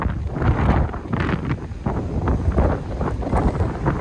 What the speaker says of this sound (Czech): Fouká jižní vítr a jsou docela veliké vlny na moři